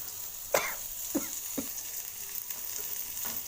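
Onion and mustard seeds sauté in a hot pan for a spiced chitranna rice dish, a steady frying hiss broken by a few sharp pops and scrapes early on, close and moderately loud with no talking.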